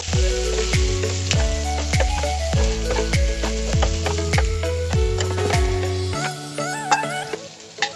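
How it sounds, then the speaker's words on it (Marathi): Red chillies, garlic and tomato sizzle loudly in a pan while being stirred, with rhythmic ringing strikes of the utensil against the metal; the sizzle drops away near the end, leaving a few scattered clinks. "लाल मिरच्या, लसूण मिक्स करायचं आहे व्यवस्थित सर्व"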